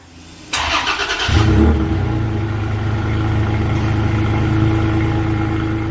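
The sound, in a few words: pickup truck engine with stock exhaust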